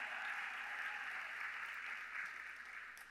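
Crowd cheering and applauding at a talk on Heavenly Mother, a dense, steady wash of clapping and voices that holds at a loud level and fades slightly toward the end.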